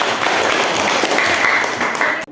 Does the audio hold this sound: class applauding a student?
yes